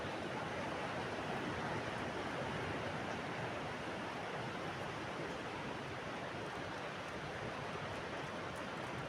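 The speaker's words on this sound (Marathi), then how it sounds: "आली मोठी लाट" A big sea wave breaks on the Konkan coast on a December morning, spraying water: a continuous, fairly faint broadband wash of surf with no distinct individual crashes and no talk.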